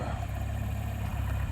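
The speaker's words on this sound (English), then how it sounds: "This is still a good little tractor." An old John Deere 2020 tractor engine idles steadily outdoors, a low, even rumble with a constant throb and no revving, close and alone.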